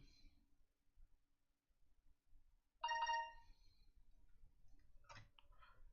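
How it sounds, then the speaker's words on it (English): A phone goes off faintly in a quiet room during a trading livestream, with a short electronic ring partway through and a couple of weaker chirps later on, set against low background noise and with nobody speaking. "you can hear the shit out of that friggin' phone right now"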